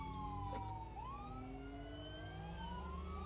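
Several police and emergency vehicle sirens wailing together in the BeamNG.drive video game, loud and continuous with rising and falling tones over a low engine rumble.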